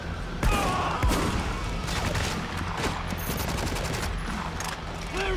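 Sustained gunfire in the war shooter Spec Ops: The Line, rapid overlapping shots and bursts with a few heavier impacts, loud and continuous for the whole stretch with no talk.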